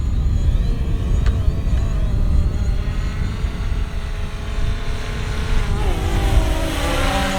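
A Hubsan Zino drone flies at full throttle, its steady buzzing motor whine sitting over strong wind rumble, with pitch shifts as it dives and recovers.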